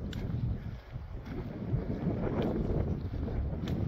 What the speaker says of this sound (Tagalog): Ganda ng simoy ng hangin.